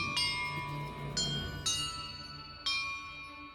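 Bells rung in a puzzle in the video game Hogwarts Legacy: four clear metallic strikes with bright ringing overtones, irregularly spaced, each decaying into the next, over a soft low background.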